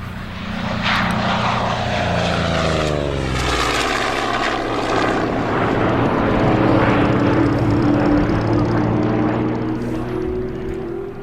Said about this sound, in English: flying out of Ardmore Base to the south of Auckland, was a single-seater Corsair fighter